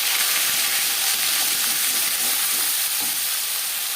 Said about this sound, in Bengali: পনেরো 20 সেকেন্ড পাঁচফোড়ন ভেজে নেওয়ার পর দিয়ে দেবো আদা বাটা, কাঁচা লঙ্কা বাটা